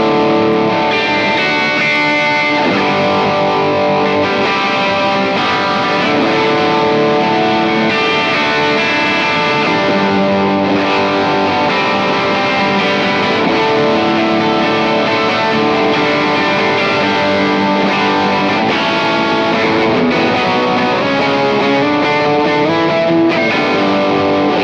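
Electric guitar played through a Strymon Iridium amp modeler, loud driven chords and sustained notes ringing with distortion and effects, continuous and alone without talk.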